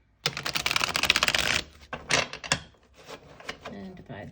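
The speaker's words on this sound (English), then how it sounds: "put those back and we'll do one last shuffle" A rapid, dense burst of tarot card shuffling riffles for over a second, followed by a few scattered taps and slaps of cards being handled, close up.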